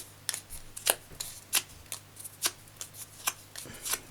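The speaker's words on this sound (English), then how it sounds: "we're going to use the bone folder to just bring up the petals of our flowers" A bone folder works paper flower petals, making a quiet series of sharp crinkling scrapes and rustles in uneven bursts, close and alone.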